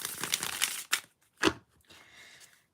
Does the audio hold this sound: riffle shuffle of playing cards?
yes